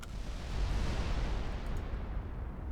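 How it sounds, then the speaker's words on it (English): A torpedo detonates in Ultimate Admiral: Dreadnoughts, a naval battle game, giving a dense, sustained rumbling blast that fills the whole stretch at steady loudness with no distinct onset or tail. "This torpedo might hit Tayo if it's not fast enough. Detonate!"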